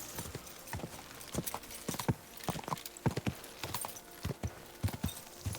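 Horse hooves clip-clop in a steady, brisk rhythm in the video game Kingdom Come: Deliverance 2, close and fairly quiet, with no voices heard.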